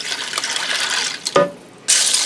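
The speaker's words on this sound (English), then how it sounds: "I'm going to add in 2 cups of water." Water is poured into a pot holding pasta shells and browned beef, a splashing rush with a brief pause and gurgle before the stream resumes, close and alone.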